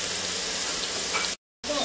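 Onions browning in a pan over a village cooking fire for masoor dal give off a steady, close sizzle and crackle with a brief sharp dropout near the end.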